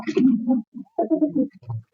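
Ordinary domestic pigeons coo close by in a few low, throaty, rolling phrases with short pauses between them, with no talking.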